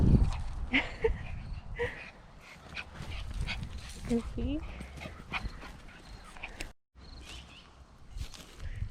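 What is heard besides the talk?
dog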